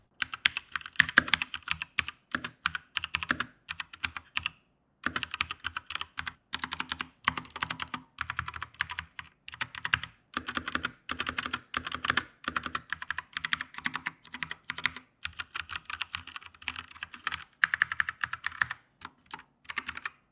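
A Logitech G413 SE mechanical keyboard with linear switches typed on steadily and close up, in dense runs of crisp clacks with a couple of brief pauses.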